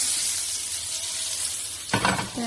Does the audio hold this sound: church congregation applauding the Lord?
no